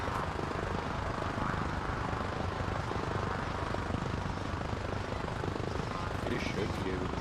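A DayZ helicopter engine runs with a steady, loud whine and a rapid rotor chop throughout, heard up close.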